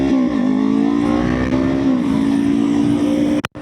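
A Kawasaki Ninja 500 motorcycle engine hums steadily and loud while riding, its tone holding even with slight pitch shifts before cutting out abruptly near the end.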